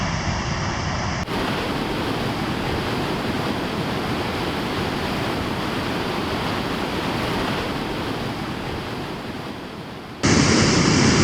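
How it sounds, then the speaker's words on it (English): Waves crash without pause against the rocky Lake Superior shore on Minnesota's North Shore in April, a loud, dense roar of surf that fills the whole stretch and briefly swells louder near the end. "I don't know if you can hear me over all the thundering, crashing water"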